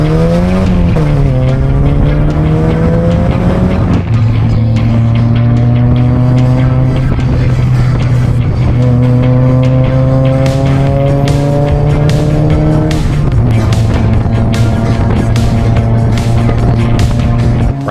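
A cheap Mazda Miata on a 500-mile road trip revs up loudly through several gear changes, its engine note climbing steadily, dropping sharply at each shift and rising again, continuous and close with no talking.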